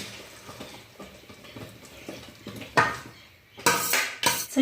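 A utensil scrapes and knocks against a pot while translucent potatoes are stirred, giving a series of soft rhythmic scrapes followed by sharper, louder metallic clanks near the end, close up with no talking.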